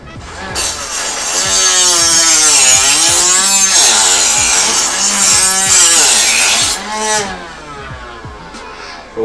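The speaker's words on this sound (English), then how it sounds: "let me go ahead and sharpen this" A Swift Sharp knife sharpener grinds against a knife blade in loud, continuous rhythmic scraping strokes that sweep back and forth for about seven seconds, then ease off into a short rasp.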